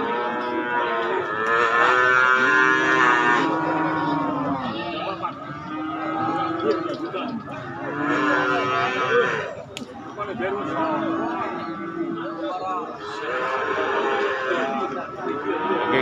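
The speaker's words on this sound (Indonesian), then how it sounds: "ini deretan sapi-sapi bakalan Pasar Wage Nangkang" Bakalan cattle at Pasar Wage, a village livestock market in Pati, moo repeatedly in long, loud, overlapping calls from several animals nearby, with some background chatter.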